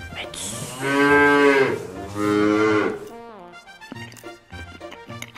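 A human voice imitates a cow's moo during toy play, giving two long, drawn-out lowing calls, followed by softer clattering and brief vocal sounds.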